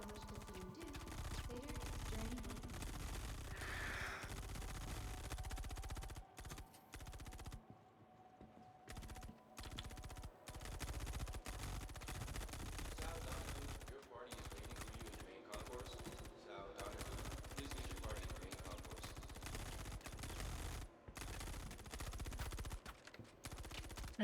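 Guards in a video game fire guns without pause, a continuous rattle of automatic gunfire broken by a few brief gaps, running steadily beneath occasional speech.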